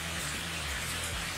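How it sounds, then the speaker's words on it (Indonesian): Steady rain falls outdoors around a house yard, a constant, even hiss that fills the clip without pause, fairly quiet and with no voices over it. "suasana sedang hujan"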